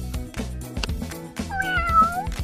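A cat meows once in a rising then falling tone over a bouncy music backing, clear and close.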